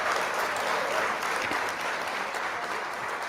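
A crowd claps at the end of a live Halloween show, a dense, steady burst of applause that holds at an even level throughout the short stretch, with no voices over it.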